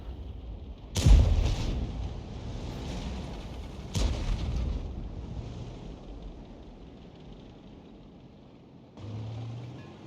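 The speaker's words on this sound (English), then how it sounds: "the shells seemed to come in from above and hit the back of that garage area or factory" Artillery shells in the World of Tanks game, fired from a Lorraine 155 50, land with two sharp booming impacts a few seconds apart, each trailing into a rumbling decay, followed later by a low engine-like hum.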